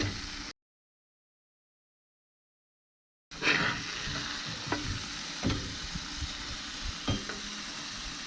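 Alligator meat sizzles in a hot pan just after being flipped for gator tacos, a close, steady crackling fry that cuts in after a brief silence, with occasional spatula scrapes and pops.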